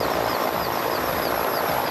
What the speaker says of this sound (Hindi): हेलीकॉप्टर की मदद से लोगों को रेस्क्यू किया जा रहा है।